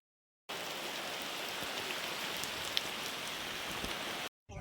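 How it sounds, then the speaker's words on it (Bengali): Heavy rain pours outside a poultry farm building, a steady, even hiss of downpour that starts abruptly and stops just as suddenly a few seconds later. "বাইরে প্রচুর পরিমাণ বৃষ্টি হচ্ছে।"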